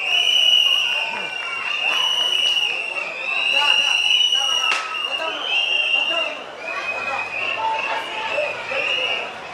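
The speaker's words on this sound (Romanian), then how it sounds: "aplauze vă rog!" A festival crowd at a traditional customs festival in Romania applauds and cheers for a school's goat-dance performance. Clapping and cheering mix with crowd chatter and other voices, and a high-pitched whistle-like tone sounds over the noise.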